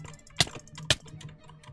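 Mouse clicks during a Hypixel Bridge match in Minecraft: two sharp, close clicks about half a second apart, standing out over a low steady hum with no talking.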